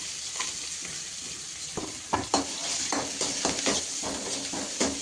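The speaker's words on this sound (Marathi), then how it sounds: "टाकली हिरवी मिरची परतली ना ते कांदा टाकूयात आपण त्याच्यात" Green chili and onion sautéing in a pan, a steady close sizzle broken by a series of scraping stirs and clinks of a spatula, with no voices.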